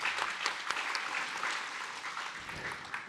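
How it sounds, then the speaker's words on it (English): An audience claps for panelists at a speaker series event on the metaverse, a steady round of applause with scattered sharper claps, moderately distant. "big round of applause to these panelists."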